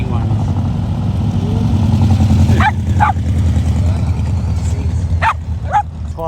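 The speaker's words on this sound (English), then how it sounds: "She's barking at all the motorbikes when they go past." A dog barks repeatedly in short bursts at motorbikes roaring past close by during a bike run, the loud engine rumble continuous underneath with a few yips and whimpers.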